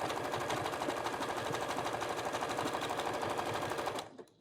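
A sewing machine runs steadily, stitching a stay-stitch line down the fold of a vintage quilt-scrap needle book, its rapid even needle clatter loud and close for about four seconds before stopping abruptly.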